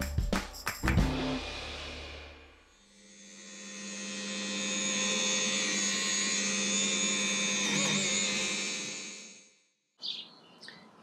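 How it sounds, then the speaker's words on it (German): A power polisher buffing boat gelcoat with Menzerner polish runs as a steady, loud whirring drone for about seven seconds, wavering briefly near the end before stopping, preceded by handling knocks. "Zu guter Letzt wird noch alles poliert."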